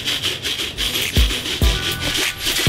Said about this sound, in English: What kind of sound would you call it? Maraca? Yeah, it's kind of like a percussion sound.